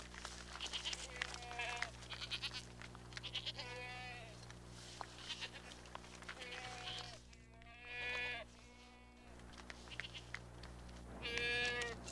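A lost goat bleats several times at a distance over a steady low hum and background noise, with wavering cries spaced through the scene and one louder call near the end.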